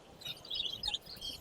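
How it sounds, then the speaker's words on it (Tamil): Small exotic pet birds chirp in brief bright tweets at a pet market on Broadway in Chennai, a few quick calls close by over quiet background noise. "உங்களுக்கு இந்த மாதிரி பேர்ட்ஸ் ஏதாவது வேணும்னா"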